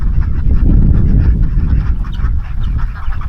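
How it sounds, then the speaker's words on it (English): A flock of Appleyard ducks, several females and drakes, on a farm, giving loud continuous quacking and chatter close by, with dense overlapping calls throughout and no talking. "these ones over here are Appleyard ducks"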